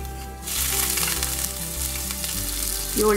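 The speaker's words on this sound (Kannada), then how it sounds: "ಒಂದು ಹತ್ತು ಪೀಸಷ್ಟು ಗೋಡಂಬಿ ಸ್ವಲ್ಪ ಕೆಂಪಕ್ಕೆ ಹುರ್ಕೊಳ್ಳೋಣ" Cashews fry in hot ghee for khara pongal, a loud close crackling sizzle that starts suddenly and holds steady for a few seconds, with a faint stir at the end.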